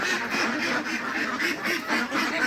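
Farm ducks quack repeatedly in a busy, overlapping chorus, loud and close, with honking calls coming in quick irregular bursts.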